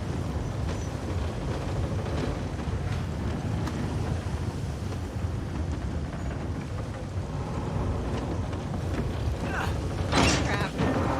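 Stuck elevator mechanism in the video game Uncharted 4, a continuous low rumbling, grinding drone with faint mechanical clanks, steady and loud, a brief brighter metallic burst near the end.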